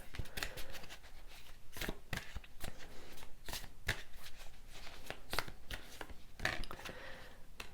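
Tarot cards shuffled by hand up close, a quiet series of crisp riffling flicks and taps repeating at an irregular rhythm.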